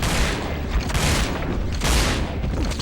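Gunshots in the video game Resident Evil Dead Aim during a boss fight, heavy booming blasts in a regular rhythm, roughly one per second, loud and close.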